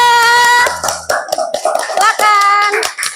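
A fifth-grade classroom claps for student group 3, a short burst of hand claps mixed with children's voices and a sustained tonal sound.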